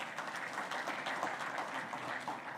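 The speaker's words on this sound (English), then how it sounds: "I think that deserves a big round of applause" An audience at an aviation symposium gives a continuous round of applause, with many hands clapping in a dense, even patter heard at a distance and fairly faint.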